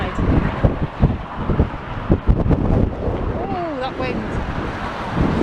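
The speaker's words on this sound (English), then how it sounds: "Wind." Strong, gusting wind buffets the microphone along the Blackpool seafront promenade, with rumbling bursts that rise and fall close up. Brief whistling tones also sound, and no one speaks.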